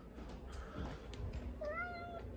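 A cat wearing a cone lets out a drawn-out, rising meow near the end, fairly close and moderately loud over a low room rumble, with a few soft shuffling sounds before it.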